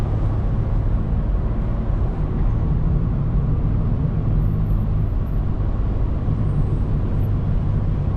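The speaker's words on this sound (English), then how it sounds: "There's a little bit of burble from the factory, guys." A 2025 BMW M4 Competition with its factory exhaust drones steadily and low from inside the car, with no distinct pops standing out.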